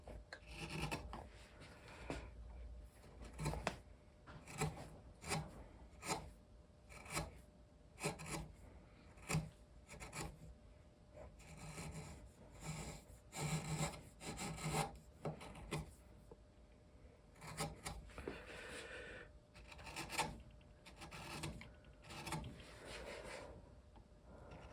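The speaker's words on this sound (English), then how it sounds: "Probably should have honed these a little bit. That's been a while since I've used this gouge." A wood gouge cuts into a table base, producing repeated rasping scrapes in short strokes with brief pauses between them, heard close and fairly quiet.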